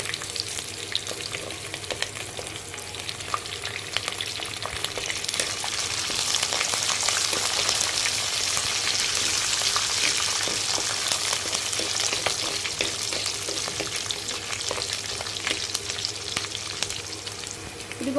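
Curry leaves and green chillies frying in hot oil for semiya upma make a continuous, dense crackling sizzle that holds at an even, moderate loudness throughout, with no talking.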